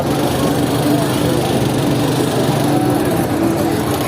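A Jamuna 150cc motorcycle engine runs steadily at idle at a trade fair in Dhaka, a constant buzzing drone that stays close and even throughout.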